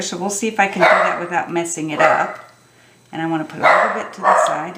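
A pet dog barks repeatedly nearby, sharp loud yips in bursts that overlap someone talking during an indoor craft session, with a short pause before more barking.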